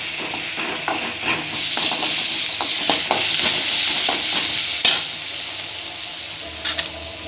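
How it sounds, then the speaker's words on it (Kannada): Onions fry in oil until soft for a yam palya, sizzling steadily up close while a spoon stirs and taps against the pan in irregular bursts. "ಈರುಳ್ಳಿ ಸ್ವಲ್ಪ ಮೆತ್ತಗಾಗೋವರೆಗೂ ಹುರ್ಕೊಳ್ಳಿ."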